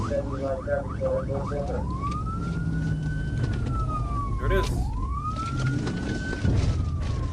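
An ambulance or paramedic truck siren wails during a police chase, its tone sweeping up and down in long rising and falling cycles after a quicker yelp at the start, loud over road noise while people talk.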